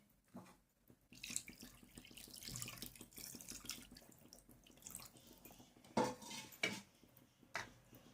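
Water is poured into a cooking pot in a home kitchen while chicken kurma is being made, a quiet splash and trickle joined by soft clinks of metal utensils and pans.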